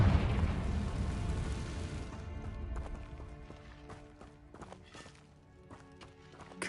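A Confringo fire spell explodes in Hogwarts Legacy, a loud broadband blast at the start that rumbles and decays over about two seconds, followed by quieter scattered clicks and game effects.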